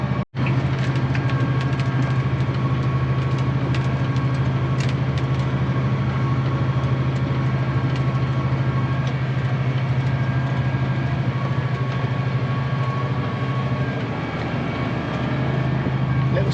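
A small tractor, a Little 70 running on Terra tyres, drones steadily and loudly at close range with a constant low engine hum and no break.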